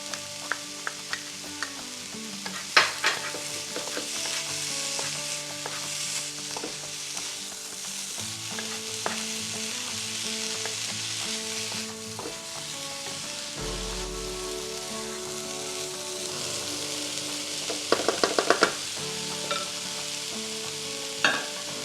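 Cauliflower fried rice with green beans being stir-fried, a dense continuous sizzle with crackling pops and scraping stirs, close up, no talking.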